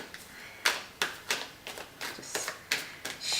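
Tarot cards are shuffled by hand, a series of soft riffling flicks and taps coming in an irregular rhythm, close and fairly quiet.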